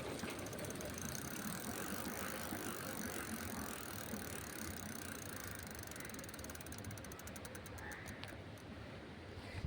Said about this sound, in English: Listen. Hub sound.